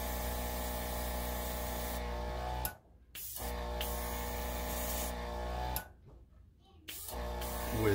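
An airbrush sprays paint onto a clock face, giving a steady close hiss that cuts out twice briefly and then resumes.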